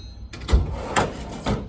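A drawer slides open on a Snap-on tool chest with a short run of metallic scraping and a few light clunks, loud and close, with no talk.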